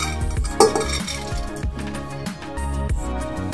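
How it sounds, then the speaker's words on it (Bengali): Washed mung dal is tipped into a pressure cooker, giving a wet, close rattle and clatter of lentils and water against metal with a few sharp clinks, busy and uneven throughout. "ধুয়ে নেওয়া ডাল প্রেসার কুকারের মধ্যে দিয়ে দিয়েছি।"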